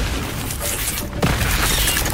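An Incendio fire spell is cast in Hogwarts Legacy, a single sharp burst cutting through a dense, noisy layer of combat sound.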